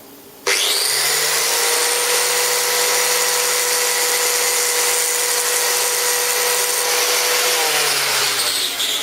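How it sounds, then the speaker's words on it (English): An angle grinder cleans up the cut end of a steel piece with one loud, steady, high whine that starts abruptly and holds for about eight seconds before spinning down. "Just clean the end of it up, guys, with the grinder."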